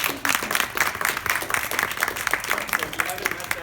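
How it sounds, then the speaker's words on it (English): Audience applause for newly inducted members at a Q&A gathering, a steady wash of clapping hands that fills the clip at moderate level, with some talk mixed in. "So round of applause."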